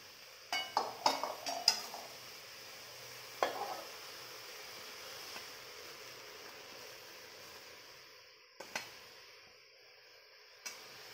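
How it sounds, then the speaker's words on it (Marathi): Vegetables cook in a large pot with a faint continuous sizzle, broken by a few scraping stirs and light clinks of a spoon against metal. "ही भाजी आता फक्त पाणी न सोडता शिजवून घ्यायची आहे"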